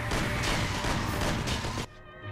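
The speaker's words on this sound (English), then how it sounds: "Gunshots!" Gunshots in the video game Mafia come as a loud, close burst of rapid cracks that stops abruptly, leaving a faint background hum.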